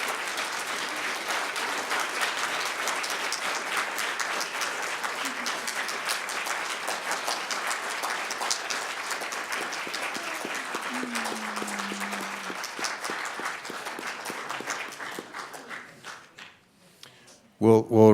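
An audience at a panel discussion gives a long round of applause, dense steady clapping that fades out toward the end, with a voice breaking in just as it stops.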